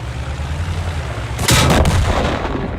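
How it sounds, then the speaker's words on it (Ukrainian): A single heavy tank cannon blast in the video game World of Tanks booms out over a low, steady engine rumble, followed by a brief crackling echo. "Добрий постріл"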